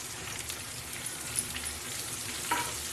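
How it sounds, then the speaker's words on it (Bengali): Pointed gourd (potol) fries in a pan, a steady soft sizzle with light stirring scrapes, fairly quiet and without talk. "চলো বন্ধুরা পটলটা একটু ভালো করে ভেজে নিই"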